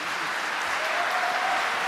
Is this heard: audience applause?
yes